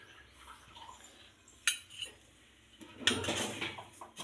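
A kadai wok set down on the stove, with a sharp metallic clank followed by a few lighter clinks and a longer rattling scrape of metal.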